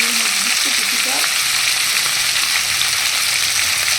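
Potatoes frying in hot oil in a pan give a steady, loud, hissing sizzle that holds evenly throughout, with a brief faint voice early on.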